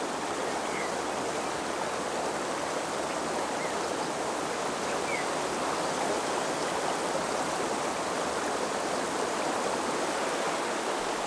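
Wild river water gushing between granite blocks at Hell's Falls on the upper Kamp, a steady, dense roar of rushing white water that fills the scene without pause, close and constant with no voices.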